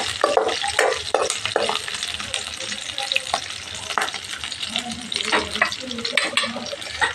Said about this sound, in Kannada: ಈ ಥರ ಚೆನ್ನಾಗಿ ಫ್ರೈ ಆಗಬೇಕು